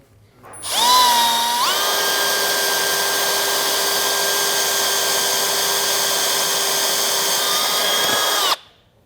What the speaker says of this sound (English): We're going to drill out this factory grommet.